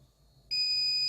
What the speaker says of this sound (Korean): 그렇게 해서 부저음이 울리게 되죠